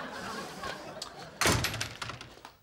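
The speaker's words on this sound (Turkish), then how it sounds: "Kapıyı açtılar." A door opening indoors: a single sharp, loud clack and thunk partway through, followed by a brief rattle and settling sounds, with quiet room noise before it.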